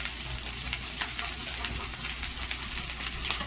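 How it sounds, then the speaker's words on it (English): Fried rice with bacon sizzling steadily in a frying pan over medium-high heat, a dense, continuous close crackle with no pauses. "you're just kind of letting it sit in the frying pan for between 1 to 2 minutes on each side"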